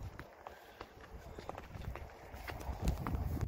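Horse hooves clop steadily at a walking pace on open ranch ground during a cattle drive, with rustling and a soft background rumble throughout.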